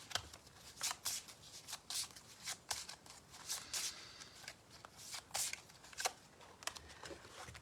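Oracle cards shuffled by hand nearby, a series of quick riffling bursts in an uneven rhythm, clear and fairly soft with no talking.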